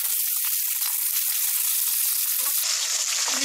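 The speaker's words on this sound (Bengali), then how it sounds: "আমি হালকা করে ভাজবো, দই মাছে বেশি কড়া করে মাছ ভাজতে হয় না" Katla fish pieces frying lightly in oil in a pan: dense, steady, hissing sizzle, loud and close throughout, with no talk.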